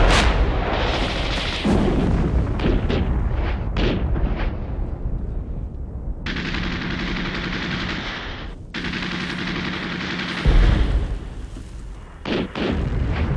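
Bomb explosions and machine-gun fire from a war drama fill the scene, with heavy booming blasts and rattling bursts of gunfire that start and stop abruptly, loud and close.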